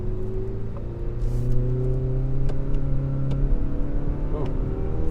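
A 2019 Mazda3 Hatchback AWD accelerating: a steady engine drone rises in pitch as it pulls, heard from inside the car at moderate volume with faint road noise underneath.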